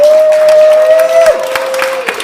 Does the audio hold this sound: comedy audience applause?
yes